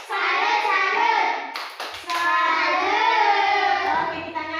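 A group of children claps out a salute clap in a classroom, their sharp hand claps mixed with loud, rhythmic chanting voices close by.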